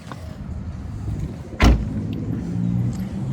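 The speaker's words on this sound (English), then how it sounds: "Hold on one second, I got a car coming here." A passing road car rises to a loud, close whoosh and then fades into a low, steady rumble, heard in the open with no talking.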